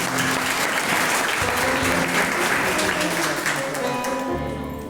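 Warm, sustained applause from a church congregation at a thanksgiving service, steady dense clapping that fades slightly at the end.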